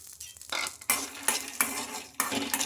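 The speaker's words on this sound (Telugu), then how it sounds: "ఇంకా ఇదే కడాయిలో ఇంకా పల్లీలు కూడా ఫ్రై చేసుకోవాలి." Peanuts frying in a kadai, stirred with a metal spoon that scrapes and clinks against the pan in several distinct strokes over a soft sizzle, close and without talk.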